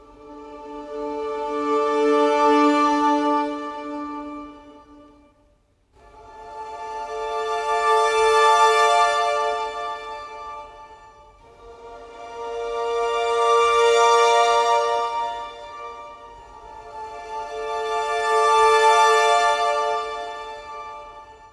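Four slow, smooth swells from muted (con sordino) orchestral strings rise and fade in turn, soft in tone, each lasting several seconds with no talking.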